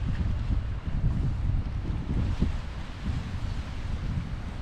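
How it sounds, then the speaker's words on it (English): Gusty wind buffets the microphone on the Cardiff foreshore, a low, rumbling roar that rises and falls in uneven bursts, with no voices. "It's still quite windy down here, but it's nothing major."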